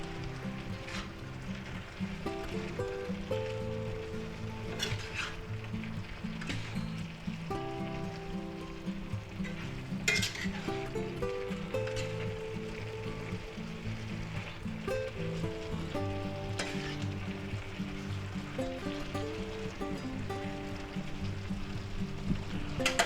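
Spicy beef, vegetables and mushrooms sizzle steadily in a stir-fry pan, a soft continuous crackle and hiss as they are stirred, with tonal background music running underneath throughout.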